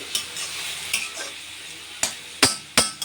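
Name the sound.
papaya and chillies frying and being stirred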